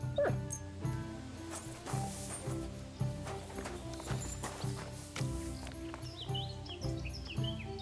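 A dog in the medieval game Kingdom Come: Deliverance II whimpers and yips over a steady clip-clop of horse hooves, with a faint game soundtrack beneath and no talking.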